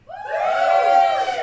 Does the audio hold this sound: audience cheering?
yes